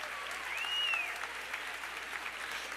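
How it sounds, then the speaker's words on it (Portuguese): Church congregation applauds a woman pastor's sermon, a brief, moderately close wash of clapping with a faint whistle rising over it near the start. "Pode aplaudir."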